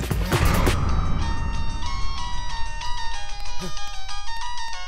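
A mobile phone rings with a bright, repeating electronic melody. It follows a loud, brief burst of noise at the start and continues steadily at moderate volume.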